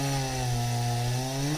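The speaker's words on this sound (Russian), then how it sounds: "пилит дрова" A motor saw cuts firewood brought from a village: a loud, continuous engine drone with a strong steady pitch, close by and unbroken, with no voices over it.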